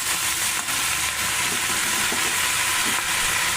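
Potatoes and onion stalks fry with salt and turmeric in a pan with no water, giving a steady, close, broadband sizzle that runs continuously with faint stirring scrapes.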